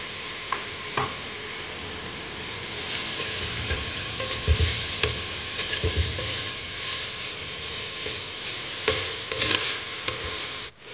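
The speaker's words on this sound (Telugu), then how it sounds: "టమాటా కొంచెం వేగిందండి, అంటే ఫ్రై అయింది." Tomatoes fry with ginger in a pot, a steady sizzle broken by spoon scrapes and dull knocks against the pot as they are stirred, with no one talking.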